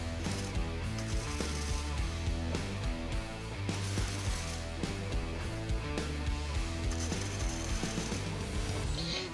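Ratchet on a binder strap cranking tight around a steel fire pit tub: dense, continuous metallic clicking and grinding, close and loud, with a steady repetitive rhythm throughout.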